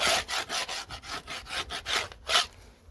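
A chisel scrapes winter debris off the edges of a wooden beehive bottom board in quick, rhythmic rasping strokes, about ten close scrapes in a row, with no talking.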